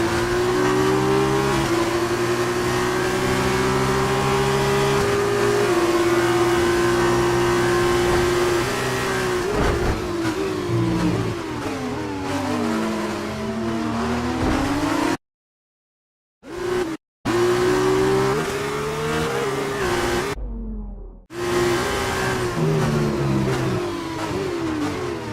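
Formula 1 race cars roar past in the F1 2019 video game, loud sustained engine whine with pitch climbing through upshifts and sweeping as cars overtake, broken by two brief silent gaps.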